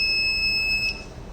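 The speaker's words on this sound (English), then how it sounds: "buzzer alerts" A car battery monitor's low-voltage buzzer sounds a steady, high electronic tone for most of a second, then cuts off, leaving a faint background hum.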